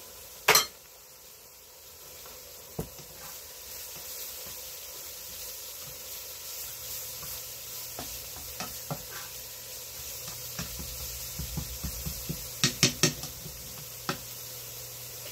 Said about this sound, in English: Okay, that is boiling, so we'll go 10 minutes on the carrots.